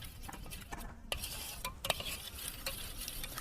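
Curd is stirred smooth in a bowl with a spoon, soft close scraping and light clicks of utensil against the dish, quiet and without talking.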